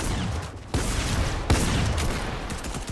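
Gunfire in the Fortnite video game: a dense, continuous fusillade of rapid shots at close range, with two sharp louder bursts punctuating the steady barrage.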